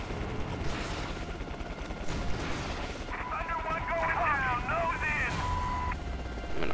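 Helicopter rotor drone and bursts of gunfire from the video game Prototype, dense and continuous combat noise with layered electronic tones joining partway through.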